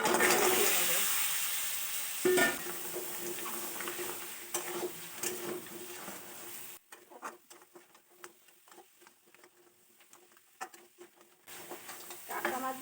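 Crab pieces frying in a home kitchen pan with turmeric and salt, a steady sizzle with scraping stir strokes and patter, loud at first then thinning to sparse crackles and clinks.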